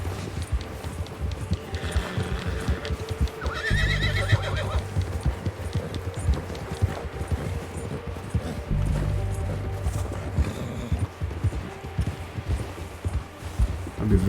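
A horse in Red Dead Redemption II neighs twice early on while galloping through woods, its hooves pounding steadily and close throughout, with a faint voice speaking at moments.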